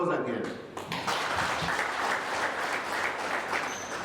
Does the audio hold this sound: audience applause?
yes